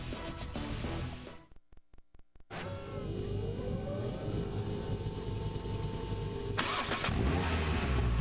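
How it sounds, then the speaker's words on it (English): A car engine cranks after a few sharp clicks, catches and settles into a steady, close idle while warming up, rising slightly in loudness near the end, with no talk. "This is the sound of a car engine."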